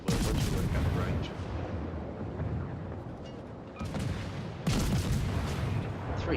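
A destroyer's naval guns in a naval combat video game fire heavy booming salvos over a constant rumbling battle roar, with loud blasts near the start and end while a voice talks throughout.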